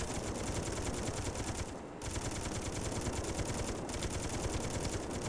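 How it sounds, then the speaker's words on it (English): Sustained rapid turret-gun fire in Space Engineers, shooting down incoming asteroids, a dense continuous automatic burst with two brief pauses, loud and close with no talking. "There's asteroids, and the gun is indeed shooting them down."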